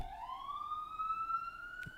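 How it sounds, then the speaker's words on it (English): A siren wails near an IDF base near Gaza, a single rising tone that climbs and holds, heard at moderate distance against faint background noise. "Perfect siren at the right moment"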